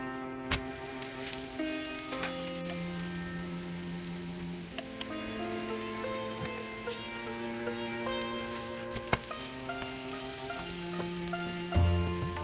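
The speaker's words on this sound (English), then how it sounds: "Now I am applying the ghee." Ghee is brushed onto a potato-stuffed aloo paratha on a hot pan, giving a faint, steady sizzle beneath sustained musical tones, with small scraping taps and a louder clatter at the end.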